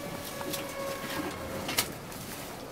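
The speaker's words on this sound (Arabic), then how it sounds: "هاد الحمامة هادي هي أعز حمامة عندي في السجنة" A homing pigeon cooing in a loft, with soft low coos set in steady background hiss and a brief sharp knock partway through; no one speaks.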